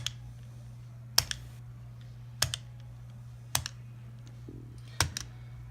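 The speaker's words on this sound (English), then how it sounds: "The player can then input these numbers through the keyboard." Sharp key presses tapped out on a computer keyboard as a number sequence is entered, four or five distinct clicks spaced about a second apart over a steady low electrical hum.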